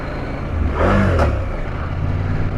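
A motorcycle engine revs up briefly in first gear on a rocky backcountry trail, a short mid-loud surge rising and falling over steady idle and wind noise.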